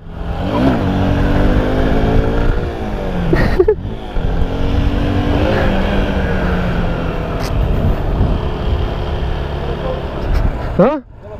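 Stock, unmodified motorcycle engine revving up and down in repeated surges, loud and close, with people talking over and between the revs.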